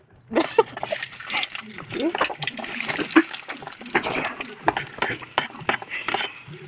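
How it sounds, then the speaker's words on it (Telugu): Chopped onions hit hot oil in a pan, giving a steady close sizzle with stirring clatter and scraping while someone talks over it. "ఆయిల్ తర్వాత కట్ చేసుకున్న ఆనియన్స్ వేయాలి"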